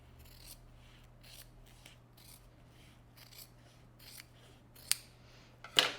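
Scissors snip away leftover wallet material from the back side in a series of soft, close cuts over a faint steady hum. It ends with a couple of sharper clicks.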